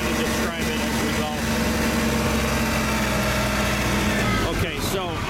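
A SkyTrak 10054 telehandler's diesel engine runs steadily and loudly up close, a continuous rumbling drone that fills the whole span, with a brief mechanical shift near the end.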